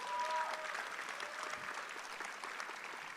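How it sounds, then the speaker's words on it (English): Steady applause from an audience at a chenda melam arangettam celebration, dense continuous clapping at moderate distance with a faint voice briefly audible early on. "Give them another round of applause."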